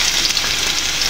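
Garlic sizzles in a frying pan as a steady, close hiss of frying with no pauses, heard alone for about a second.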